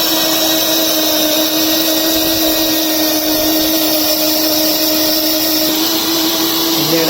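A small cooker-style wet grinder runs steadily, its motor giving a loud, even hum with sustained tonal whine and no pauses throughout, no voices over it.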